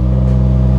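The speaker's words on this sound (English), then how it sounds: "we can go ahead and turn the car on" A Toyota GR Supra engine running on E30/E85 flex fuel gives a loud, steady, close droning hum for under a second, with no voices.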